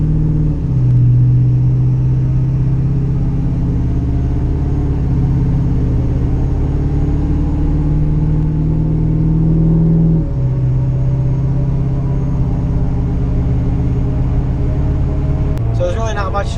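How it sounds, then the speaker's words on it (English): A lifted truck cruises straight down the road, a loud steady engine and road rumble from inside the cab with small shifts in pitch, and a voice talking over it. "And we'll just kind of drive along straight here and show you what it's like."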